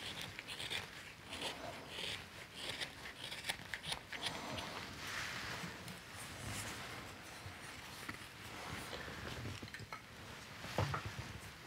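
A steel carving knife shaves thin finishing cuts along a wooden spoon, the blade's bevel pressed into the wood in a thumb-push grip. Dry scraping and whittling strokes come close and steady in a quiet room.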